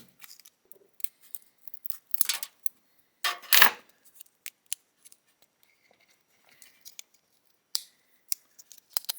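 Scissors snip through plastic packaging on computer hardware for a Slot 1 PC build, with sharp scattered cuts and crinkles separated by pauses, close up and without talk.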